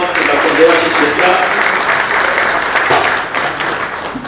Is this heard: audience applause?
yes